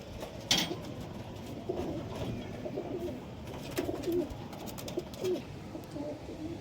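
Pigeons cooing at a breeding loft, soft repeated low coos from several birds against a rustling, busy background, with no talking.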